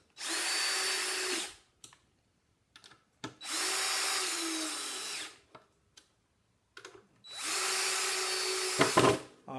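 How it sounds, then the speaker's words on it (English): A power drill drives screws into a cigar box guitar in three long, loud whirring runs, each winding down, separated by short pauses with small clicks and handling knocks. "And then just driving the screws in."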